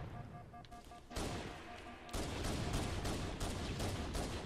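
Gunfire in Halo MCC multiplayer: a few scattered shots at first, then heavy rapid fire bursts in and continues loud and dense through the rest.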